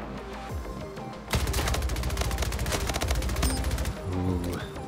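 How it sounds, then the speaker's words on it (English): SMG fire in Splitgate, a loud rapid automatic burst lasting about three seconds with steady, rattling shots close up, followed by quieter game effects. "I love the sound of the SMG"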